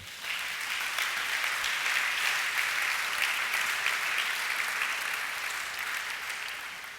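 A church congregation applauds in praise during a Sunday service, sustained dense clapping from many hands filling the room at steady loudness for several seconds, fading slightly at the end.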